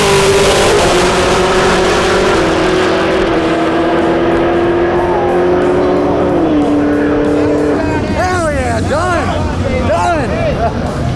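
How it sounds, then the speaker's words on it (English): A Chevrolet Camaro drag car does a burnout at a drag racing event: loud sustained engine roar and tire squeal, then screeching, sweeping revs near the end over crowd hubbub. "Camaro's the first car to do an actual burnout."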